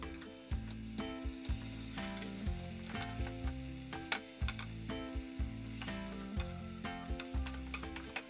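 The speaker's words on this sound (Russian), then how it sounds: "поливаю куриное филе с двух сторон медово-соевым соусом и еще немного его обжариваю" Chicken fillet glazed with honey-soy sauce fries in a skillet, a loud continuous sizzle punctuated by rhythmic spatula scrapes and taps every second or so, close up with no voices.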